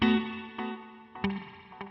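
A few picked electric guitar notes through a budget guitar pedal with reverb and delay combined, ringing out with lingering reverb and echo trails.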